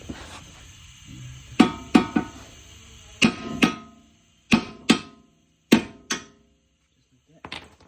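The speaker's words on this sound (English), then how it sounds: "See a little hammer." Sharp metallic taps from a small hammer during a coilover install come in scattered pairs and clusters, close by, with faint talk and background noise between strikes.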